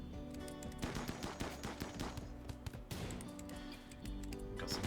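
Gunfire in the video game RimWorld, rapid bursts of shots cracking in quick succession, dense and rattling like automatic fire, with brief gaps between volleys.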